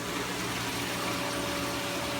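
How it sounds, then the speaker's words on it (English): Water pours steadily into an aquaponics barrel, filling from two other barrels, making a constant broadband rushing gush with no breaks. "You see how the water is flowing into it?"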